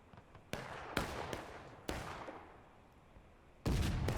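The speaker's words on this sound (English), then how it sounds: "Oh, artillery hit. Leaving an awful mess near that house." Artillery blasts from a Civil War video game boom near a house: four or five sharp, sudden explosions at uneven intervals, each followed by a short rumbling decay, with the last one loud and sustained.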